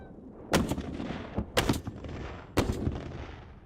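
Three heavy 120mm mortar rounds fired from a Type 96 tracked armored vehicle during a military exercise, each a sharp booming blast about a second apart, with rumbling echoes trailing between them.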